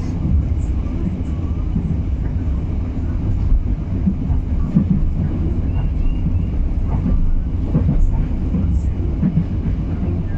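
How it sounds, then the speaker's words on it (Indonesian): A steady low rumble of a passenger train moving along rails at a station, with faint clanks and rattles in a continuous drone. "yang di sebelah ini adalah kereta api Kuto Jaya Selatan"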